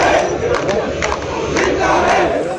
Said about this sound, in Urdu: چیف جسٹس اطہر من اللہ کے خلاف نعرے لگائے.